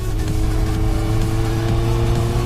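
Kawasaki 650R motorcycle engine revving through an aftermarket exhaust, a loud, steady, throaty drone close by with slight rises in pitch and no talk.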